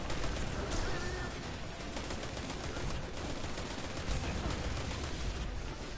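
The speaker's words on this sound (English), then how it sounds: "stand up here and just shoot everything" Continuous gunfire while shooting enemies in Destiny 2, a steady, dense wash of rapid shots and impacts held at moderate level throughout with no clear pauses.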